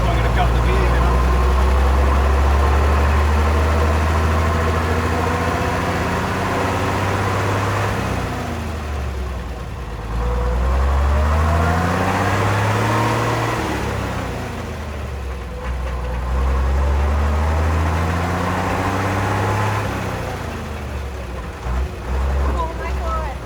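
A 1924 Mercedes-Benz car engine runs steadily and close by, its low rumble swelling and easing as gears change, with voices talking over it throughout.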